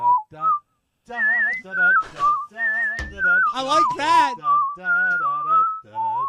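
A melodic tune whistled in short phrases with pitch slides and brief pauses, close to the microphone; a few words are spoken partway through.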